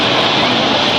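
A helicopter engine roars loudly and close by at an outdoor political rally in Gumla, a dense steady whoosh of rotor and turbine noise filling the brief moment.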